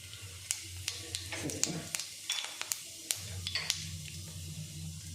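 Cumin sizzles in hot oil with a steady hiss, broken by sharp crackles and pops at irregular intervals.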